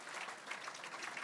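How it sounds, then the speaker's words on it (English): Audience applause at a Racing Hall of Fame induction ceremony, a brief, faint burst of steady clapping from a crowd, with no one speaking over it. "A round of applause again for Shane Day"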